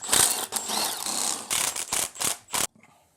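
A ratchet clicks in quick bursts, several separate runs of rapid ratcheting up close removing air conditioning bracket bolts from a BMW X5 E53 engine, ending with a faint clink.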